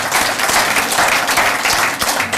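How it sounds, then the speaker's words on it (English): Sustained audience applause at a talk on engaging a new generation of park stewards, a dense, steady wash of many hands clapping throughout with no talk over it. "So let's have a round of applause."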